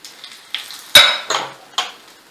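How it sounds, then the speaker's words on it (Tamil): Black pepper hits hot ghee in a pan, giving a few sharp bursts of sizzle and spattering with light clinks of a utensil against the vessel, short and close with no voices. "நெய் இப்ப காஞ்செடுத்து இந்த மிளகு"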